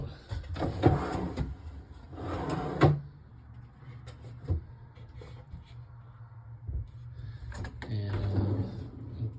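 Slide-out pantry drawers glide open with two rolling, rumbling bursts early on, then a quieter clunk and another sliding run near the end, close by in a quiet room.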